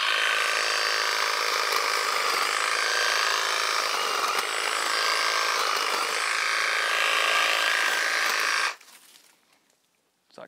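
Makita 36-volt cordless hedge trimmer cutting through hedges, a loud, steady buzzing and rasping of the blades for about eight and a half seconds before the motor stops abruptly and leaves near silence.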